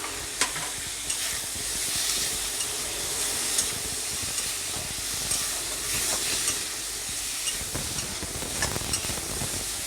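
Chilies and tomato hit a hot pan while a Kolmi shak bhorta cooks, a steady close sizzle and hiss of frying running the whole time with small stirring clicks, no voices.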